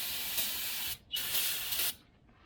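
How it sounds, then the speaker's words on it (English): Two short bursts of aerosol spray hiss over Jeep Wrangler brake parts to keep down dust, close and sharp, with a brief pause between them and quiet after. "We'll spray it off a little bit."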